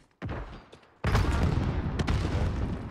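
A grenade blast and rapid gunfire in Call of Duty: Modern Warfare during a 2v2 tournament match: a short thump, then a heavy boom that rolls into sustained, dense shooting for the rest of the moment.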